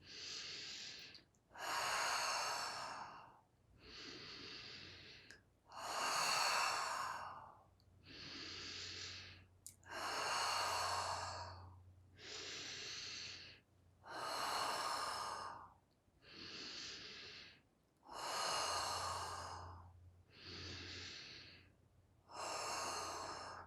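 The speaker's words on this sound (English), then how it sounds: "And moving in to the conscious connected breathing again." Conscious connected breathing during a breathwork session: a dozen deep, loud inhale-exhale cycles in a steady rhythm, close to the listener, with no speech.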